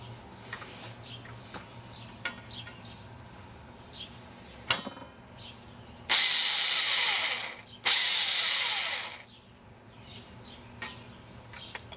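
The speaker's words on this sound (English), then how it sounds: "a hammer drill, but not in hammer mode because it's very blunt and smooth. That way I can get a nice countersink without really cutting too much into the aluminum." Hammer drill run without hammer mode, countersinking a hole in an aluminum threshold: two loud, steady bursts of whirring and grinding, about two seconds each, separated by a short pause, with faint clicks before and after.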